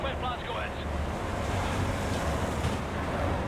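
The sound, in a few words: waves of open water in Wolfenstein: The New Order, from a video game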